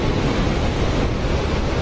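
Ocean surf pounding against rocks on the Transkei coast of South Africa, a continuous loud roar of breaking water with wind buffeting the microphone throughout and no talk.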